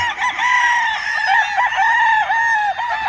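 A Stuart yellow-legged hatch gamefowl pullet crows in a loud, sustained, wavering call with clucking mixed in, close to the listener and with no talk over it.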